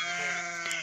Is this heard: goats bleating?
yes